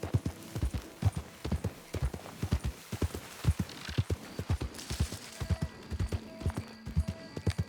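A palomino horse in the video game Red Dead Redemption 2 walks along with crisp, evenly paced clip-clopping hooves, close and fairly loud, while a soft horse snort or whinny and faint ambient tones sit underneath.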